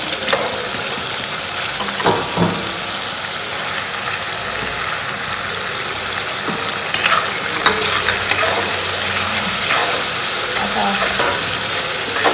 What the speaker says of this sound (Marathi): आता ती पण मस्त फ्राय करून घ्यायची